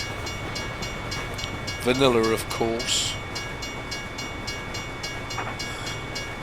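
A train rumbles past steadily in the American Truck Simulator game, a continuous low mechanical roar under a voice, with a brief high horn-like tone partway through.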